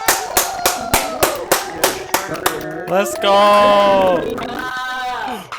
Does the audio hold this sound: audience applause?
yes